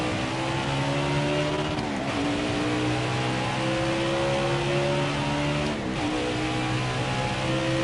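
A NASCAR Cup car in the Nascar Heat 5 racing game drones steadily around the Charlotte track, its engine note holding loud and close, with two brief dips as it shifts or lifts before climbing back to full speed.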